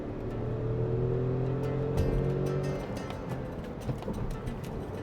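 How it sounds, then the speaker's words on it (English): A Tata Curvv turbo petrol manual engine revs and pulls under acceleration, a droning hum rising in pitch under heavy wind and road noise, with gear changes and clicks. "Listen to the engine."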